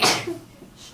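One sharp, close sneeze bursts out at the start and trails off into quiet room tone.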